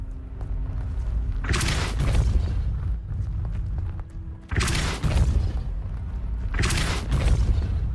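Three heavy booming blasts of the Depulso spell in Hogwarts Legacy, loud and close, spaced a few seconds apart over a steady low rumble, with no voices.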